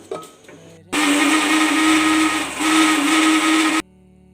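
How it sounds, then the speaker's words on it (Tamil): A kitchen mixer grinder pulverizes roasted curry leaves, starting abruptly with a loud high whine and rattling roar, dipping briefly midway, then cutting off sharply after about three seconds. "அதை நம்ம மிக்சியில் போட்டு அரைச்சிக்கலாம்."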